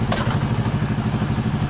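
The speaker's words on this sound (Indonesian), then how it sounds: "Nah dengan kayak gini sambil dipanasin, sambil saya masukkan giginya, nanti rodanya ikut jalan." Yamaha R25 motorcycle engine warming up at idle with a gear engaged, giving a steady, close, low rhythmic throb with light mechanical clatter throughout.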